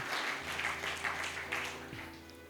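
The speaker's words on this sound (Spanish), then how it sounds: "Dale fuertes palmas de alabanza a Jesús." A church congregation applauds in praise, a dense, steady wash of clapping from many hands that carries on evenly for a couple of seconds at moderate level, with some voices mixed faintly underneath.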